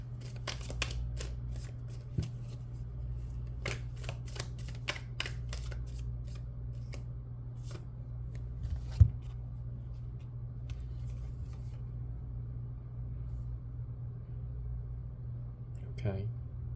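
Soft, close rustling and flicking of tarot cards being handled and drawn, with scattered light taps and slides over a steady low hum.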